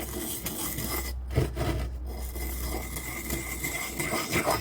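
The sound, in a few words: scissors blade being sharpened after WD-40 spray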